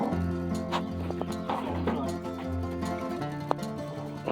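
Horses heard in a yard by a wood pile where a log splitter is in use, giving steady clip-clop and huffing sounds over constant low engine-like hum, with a brief sharp click near the end.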